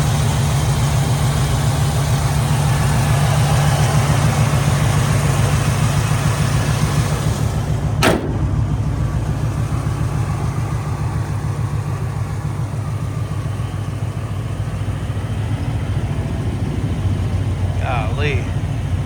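A restored 1965 Chevrolet El Camino with a 350 V8 and automatic transmission idles steadily up close, a low continuous rumble with a sharp click partway through and a voice briefly near the end.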